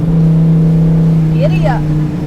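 A car now fitted with a 455 engine, originally a 400, runs with a loud, steady low engine drone close by, and a brief voice cuts in over it near the end.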